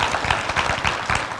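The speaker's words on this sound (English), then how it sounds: "Everybody give Kevin a warm Eagle's Nest applause and welcome." Brief burst of audience applause, many hands clapping steadily at close range with no voices over it.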